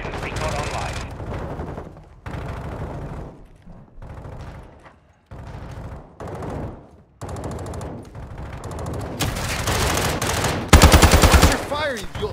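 Automatic gunfire in Call of Duty Modern Warfare II, loud bursts separated by short gaps, building to dense sustained fire near the end, with radio chatter and game voices underneath.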